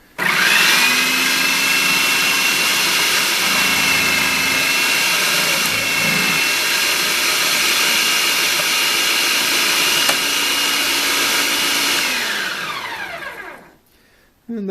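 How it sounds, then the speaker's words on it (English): A Hamilton Beach 70670 Chef Prep 525-watt food processor on setting 1 fine-shredding a carrot, a loud steady motor whine with grinding that runs for about twelve seconds, then winds down and stops. "I'm going to go ahead now and use the fine shred"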